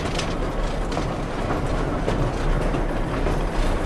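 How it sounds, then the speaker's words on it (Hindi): A train hauled by an engine on the Bhakra railway near Nangal Dam rumbles steadily along the rails, loud and close, with a continuous rolling clatter. "और एक इंजन जो इस तरफ अभी हमारी जो ट्रेन को पुल करके लेके जा रहा है।"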